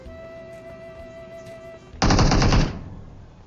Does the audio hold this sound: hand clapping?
no